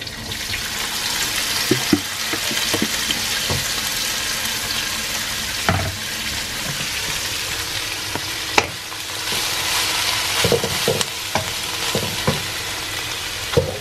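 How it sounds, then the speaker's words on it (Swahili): Steady frying sizzle of small dried sardines (dagaa) with garlic in oil fills the whole stretch, with scattered clinks and stirring knocks from a utensil in the pan. "Na kaanga kwenye mafuta for some time, kwa muda."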